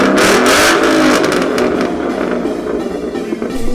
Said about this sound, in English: I got a Borla exhaust. Let me just show you guys.